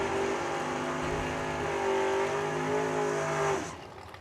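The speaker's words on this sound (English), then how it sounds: "Mike Larkin here with his dragster" A drag racing dragster engine roars loudly and steadily at a drag strip, a sustained high-revving blare with strong harmonic tones that holds for about three and a half seconds before cutting off abruptly into quieter background noise.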